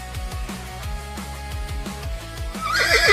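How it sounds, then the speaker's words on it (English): A horse neigh sound effect plays over a ballpark's speakers during an A's–Giants game, a loud whinny rising and falling across about three seconds against steady crowd and stadium background noise. "I'd rather hear the horse."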